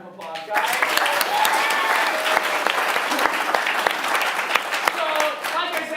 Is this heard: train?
no